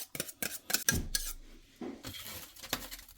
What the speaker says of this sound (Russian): Пересыпаем крем в тарелку,